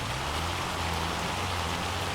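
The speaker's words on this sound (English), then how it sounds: "It's a pretty good storm." A steady, dense downpour in the Farming Simulator 25 video game, rain hissing evenly and continuously with no breaks and no voices.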